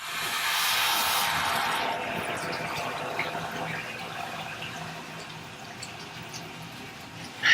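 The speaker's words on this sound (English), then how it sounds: "So we put the hose in the bucket" Water from a sink hose runs into a bucket with a steady rushing hiss, strongest at the start and easing slightly while it keeps flowing.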